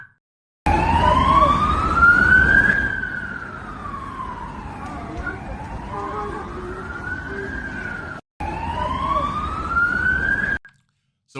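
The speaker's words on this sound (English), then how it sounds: "So we can see in this video sirens blaring" Emergency vehicle sirens wail during a rocket attack in Israel, a loud rising and falling tone sweeping slowly up and down, cutting out briefly before starting again over street noise.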